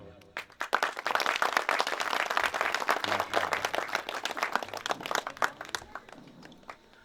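Audience applause breaks out as the ceremonial candle is lit at a live mushaira, an Urdu poetry gathering; dense clapping swells quickly and holds steady, then thins toward the end, with some crowd noise mixed in.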